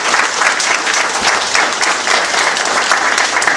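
Loud, thick audience applause fills a hall at a religious association's anniversary event, a continuous roar of many hands clapping at once for several seconds.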